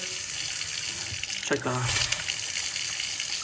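New Kohler kitchen faucet turned on at the sink, a sudden gush of water hitting the basin after a faint handle squeak, then a steady full-pressure stream.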